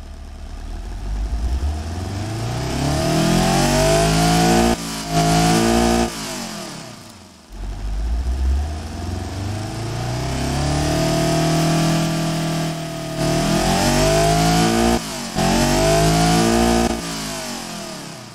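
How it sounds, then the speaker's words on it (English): A turbocharged car engine in a driving simulation game revs up and down repeatedly, climbing in pitch with brief gaps between pulls, loud and close with a rough, buzzy tone. "give a brief test of what this engine sounds like right now"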